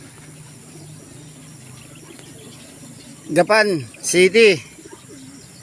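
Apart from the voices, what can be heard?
pigeons cooing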